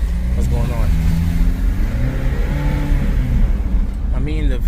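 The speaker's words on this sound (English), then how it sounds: "the vehicle is accelerating" Kia Sorento engine accelerating while driving, with low fuel pressure and loss of power, a steady mid-pitched engine drone under someone talking.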